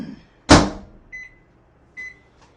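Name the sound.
microwave oven heating cobbler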